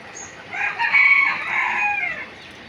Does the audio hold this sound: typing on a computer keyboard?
no